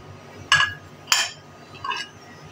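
Plates being handled and set down in a home kitchen, with three distinct ceramic clinks and clatters spaced about half a second apart, fairly close and alone with no talk.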